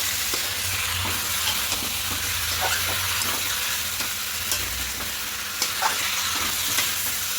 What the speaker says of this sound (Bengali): আলুগুলো দিয়ে একটু ভালো করে মিশিয়ে নেব